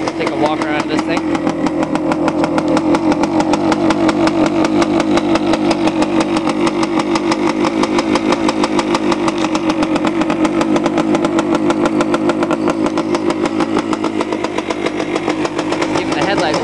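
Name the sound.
1971 Yamaha 175 motorcycle engine idling after cold start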